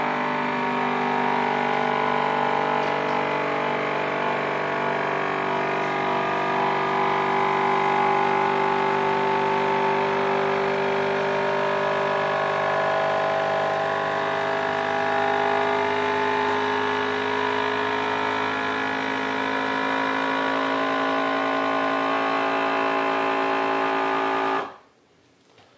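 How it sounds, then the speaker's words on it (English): A vacuum sealer motor hums loudly and steadily for about twenty-five seconds, pumping air out of a jar through a canister hose attachment, then stops abruptly. "And then for your vacuum sealer, all you do is hit canister button if you have one, and then it's going"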